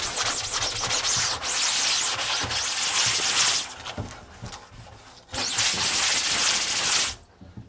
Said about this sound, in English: So do a little scrub down on the back side.